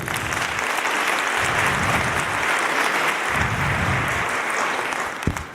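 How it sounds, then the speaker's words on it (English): Steady applause from an audience, a dense wash of clapping that holds for several seconds before tapering slightly at the end. "Please, let's give them a round of applause."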